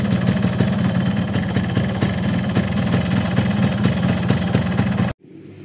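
Cold two-stroke motorcycle engine running on Repsol MXR 2T oil, idling with a steady rapid ringing putter close by, loud and alone, then cutting off abruptly at the end.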